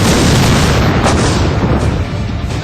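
Heavy, continuous rumbling boom of gunfire and shelling by the Pakistani army across the border, loud and dense with no distinct individual shots, filling the whole moment.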